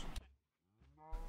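A cow from the Minecraft video game moos twice, each low, drawn-out call clean and close, with a short silent gap between them and no talk.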